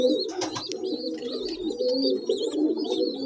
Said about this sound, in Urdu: دیکھو ابھی اور خوراک مانگ رہے ہیں اسے